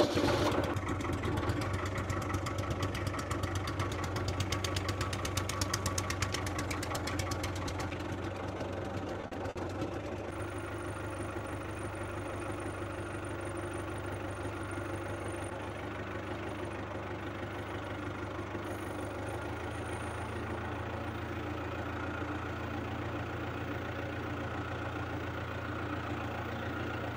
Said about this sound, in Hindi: अल्हम्दुलिल्लाह जी, अपने ट्रैक्टर की सर्विस शुरू हो गई है।